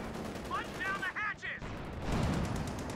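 Gunfire in a competitive video game match, quick bursts of shots fairly faint under an esports caster talking.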